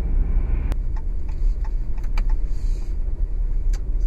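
Steady, loud road rumble inside a 2015 Jeep Cherokee driving an unplowed, bumpy dirt road, with scattered small ticks and rattles from the cabin and no talking.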